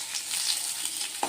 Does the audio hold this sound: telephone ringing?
no